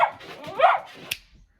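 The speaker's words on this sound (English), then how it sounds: "try to get the dog to quit barking" A dog gives a short, whiny bark-like vocalization, fairly close, followed by a brief sharp click and quiet.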